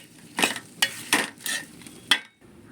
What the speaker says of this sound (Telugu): ఇప్పుడు ఇందులో వంకాయ ముక్కలు వేసుకోవాలి